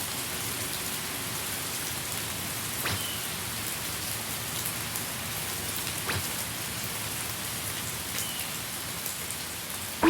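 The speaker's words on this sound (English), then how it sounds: "A solitary tombstone stands in the pouring rain" Steady pouring rain hisses over a lone tombstone in an animated scene, a dense, even wash of drops from start to finish with a couple of faint sharp clicks in the background.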